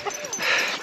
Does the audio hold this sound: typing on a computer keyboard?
no